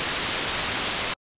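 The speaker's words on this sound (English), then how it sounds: "Here's white." Steady white noise, a flat broadband hiss running loud and uniform for about a second before cutting off abruptly, with no voices.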